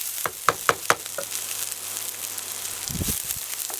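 Vegetables caramelizing in a hot pan for chicken cacciatore, a close, steady frying sizzle opened by a few sharp clattering knocks of utensil on pan, with a brief scraping stir near the end.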